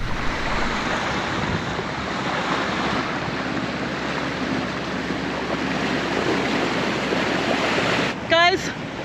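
Choppy, confused water sloshing around a sailboat as current hits the rudder, a steady broadband wash with wind noise on the microphone throughout, and a brief sharper rustle near the end.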